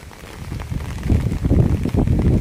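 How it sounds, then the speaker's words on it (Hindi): Heavy rain falls outdoors on a sunny day among trees, a dense, steady hiss and patter mixed with gusty wind noise, growing louder partway through with no talking. "और बहुत तेज़ बारिश हो रही है गाइस, बहुत तेज़ बारिश"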